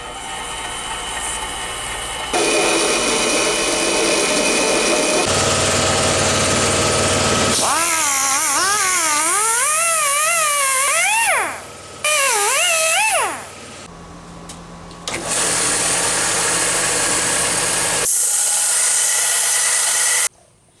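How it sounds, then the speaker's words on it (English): A metal lathe cuts a replacement part for a Bessey clamp, running in reverse at times. It makes a loud, steady machining roar with shifting tones and a wavering squeal in the middle, and the motor drops out and restarts between passes. "I'm going to put the lathe in reverse and cut on the other side."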